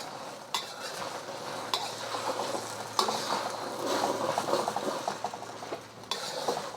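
Eggs fry and get stirred in a hot, oiled stainless steel wok for SPAM egg fried rice, with steady sizzling and repeated metal scraping and clanking from a utensil against the pan, close and continuous.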